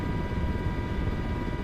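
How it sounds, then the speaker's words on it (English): Black Hawk helicopter in flight in Microsoft Flight Simulator 2024, a steady, continuous rotor and turbine drone at even loudness throughout with no talking. "Just know that the Black Hawk is one of the most capable helicopter platforms out there"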